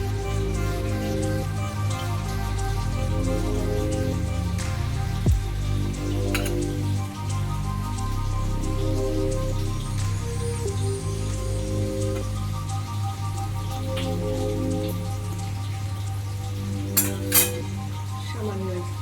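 Fried rice being stir-fried with vegetables and fried ingredients in a Bengali-style pan, giving a steady dense sizzle with a continuous low rumble and occasional scrapes and clinks of a utensil throughout.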